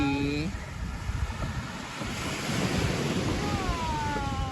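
Steady rushing surf and breaking waves at a beach in Nakar, with wind buffeting the microphone; a faint voice or tone trails briefly at the start and end.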